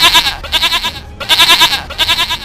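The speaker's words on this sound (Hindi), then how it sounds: "ये तो बकरी की आवाज़ है" A goat bleats loudly and close by in repeated wavering cries, in two long bursts separated by a brief pause, with no talk over it.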